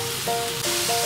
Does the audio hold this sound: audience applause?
no